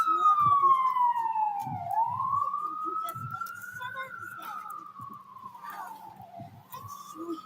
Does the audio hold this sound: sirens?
yes